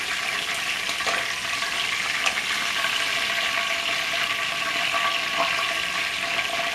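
Oil sizzles steadily as beef pot roast fries in a pan, a dense crackling hiss with occasional sharper pops.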